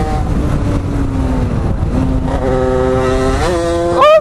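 A two-stroke dirt bike engine, ridden in Malaga, Spain, is heard close and loud as it revs. The pitch steps up through several rising pulls and ends in a sharp high scream.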